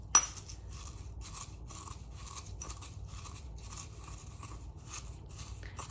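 Eggshells are ground into powder by hand, giving a faint, steady gritty scraping that repeats in slow regular strokes after one sharp tap at the start, heard alone and very close.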